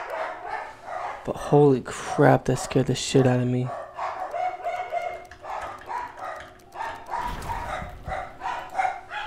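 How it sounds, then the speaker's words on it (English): Dogs bark in short, loud bursts mid-distance behind someone talking, a cluster of yaps and bow-wows for a couple of seconds before his voice carries on alone. "Sorry about the dogs in the background,"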